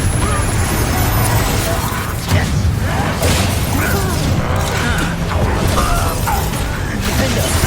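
Explosive Confringo spell blasts in Hogwarts Legacy go off amid constant loud battle noise, with crackling bursts and booms layered over a dense rumbling wash.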